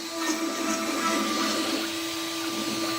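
An X-Carve CNC router carves a Coast Guard plaque on a 1,000 by 1,000 millimeter table, giving a steady whining hum with a constant tone and a hiss of cutting over it.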